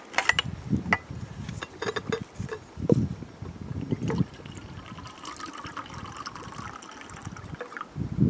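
Ice water being poured into a cup during a rest stop on a spring ski trip in Algonquin, a splashing, trickling fill with occasional clinks and handling noises, heard up close with no talking.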